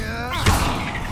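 Confringo explosive spell cast in the video game Hogwarts Legacy, a single short blast with a low thump near the midpoint, set over continuous game sound and voice.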